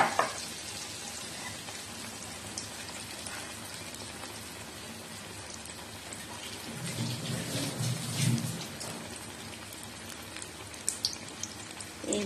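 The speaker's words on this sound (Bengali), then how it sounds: "এইবারে আমি ভেজে দেখাচ্ছি" Fritters of besan batter coated taro stems deep-fry in hot oil. A steady crackling hiss stays moderate throughout, a deeper bubbling swells partway through, and a few sharp pops come near the end.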